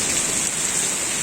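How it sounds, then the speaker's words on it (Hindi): Heavy rain pours down over Patna, a dense, even hiss of downpour hammering surfaces without a break, loud and close, with no voices. "अतिवृष्टि इसको कहते हैं।"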